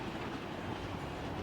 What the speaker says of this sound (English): NS westbound symbol train number 287 passes the same location.